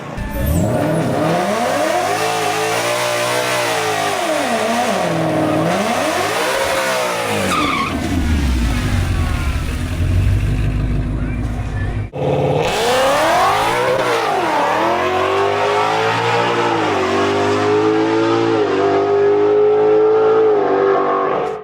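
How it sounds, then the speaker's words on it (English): A 427 blow-through car engine revs hard and loud, its pitch rising and falling in repeated sweeps while driven with the clutch, with a roaring burst midway. "Get the RPM up and then use the clutch as the gas pedal."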